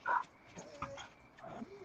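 A dog yips and barks in a few short, faint outbursts, with quieter whimpering between them, heard outdoors at some distance.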